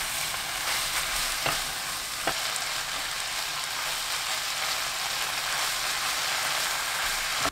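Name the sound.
stir-frying kimchi with meat over high heat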